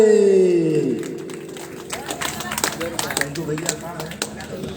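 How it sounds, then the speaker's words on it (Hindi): Applause from an audience greeting a guest at a Bhagavat Katha religious gathering in Prayagraj, a scattered patter of many hands that follows a drawn-out tone and continues at moderate volume. "हमारे जिलेदार भैया मिश्रा जी का तालियों से स्वागत किया जाए"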